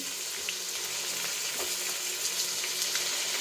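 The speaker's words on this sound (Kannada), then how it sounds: "ತರಕಾರಿಗೆ ಎಣ್ಣೆಲಿ ಚೆನ್ನಾಗಿ ಫ್ರೈ ಆಗಿದೆ" Chopped vegetables with salt frying in oil in a pan for vegetable pulao, a steady close-up sizzle with faint crackles and occasional stirring, no voices.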